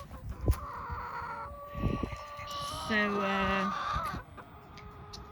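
Mr. Buddy the rooster crows loudly in a backyard garden coop, with hens clucking around him; a person speaks briefly near the start and close by.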